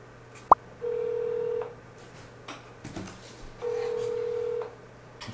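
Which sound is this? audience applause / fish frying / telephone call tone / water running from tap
telephone call tone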